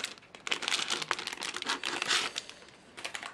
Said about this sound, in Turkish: Hemen şunu açalım. Havalı poşet bu arada ve hatta açılmış.